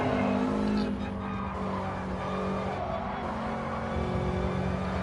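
A Subaru race car in a racing video game drones steadily through a corner, its engine held at a constant pitch with a faint skidding hiss, loud and close throughout.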